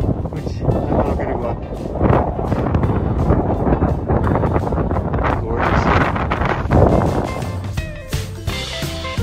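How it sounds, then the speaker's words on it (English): Strong wind buffets the microphone on a mountain top, a loud rumbling roar that surges and eases in gusts throughout, with a voice speaking briefly over it. "Oh, it's windy."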